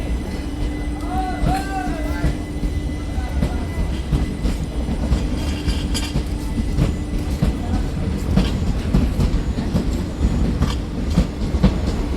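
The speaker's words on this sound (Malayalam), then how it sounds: "അതാ പോണ് ട്രെയിൻ പോണ്" A train rolls past an evening railway platform, a loud continuous rumble with rhythmic clickety-clack from the wheels and a brief metallic squeal early on, heard up close throughout.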